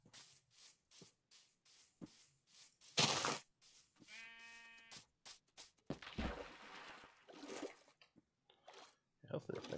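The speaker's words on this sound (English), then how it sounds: "Sheep." Sheep bleat in Minecraft, a short wavering baa standing out amid clicky game sounds and someone talking casually over the play.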